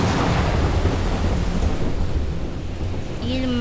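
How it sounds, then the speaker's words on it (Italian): A thunderstorm rolls on with heavy, continuous rumbling thunder and steady rain, broad and loud, building the scene of a sudden sea storm striking a sailing ship. "un forte vento scosse le vele e scoppiò una tempesta"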